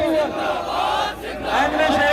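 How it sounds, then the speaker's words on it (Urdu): A rally crowd at a religious gathering shouts a slogan in unison, a dense, loud roar of many voices sustained across the whole moment. "ایسا ذرا نعرے کی آواز آئے"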